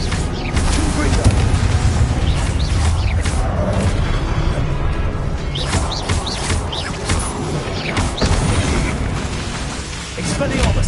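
Dense, continuous barrage of booming magical blasts from the Confringo spell in Hogwarts Legacy, fought in the Forbidden Forest, with repeated explosive bursts layered over a loud, busy mix of combat effects.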